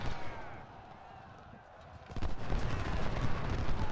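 Infantry musket fire in the Civil War strategy game Ultimate General: Civil War, a dense crackle of rolling volleys that swells louder halfway through, close and continuous, with a voice talking over it.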